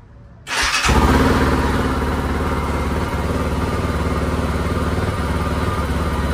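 A motorcycle engine cranks and catches after a short quiet moment, then settles into a steady, loud, close idle with a rhythmic putter.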